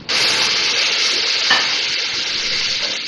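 Masala for beef yakhni pulao fries in a pan with a loud, steady, close sizzle and hiss that continues without a break, while a stirring spoon scrapes occasionally underneath.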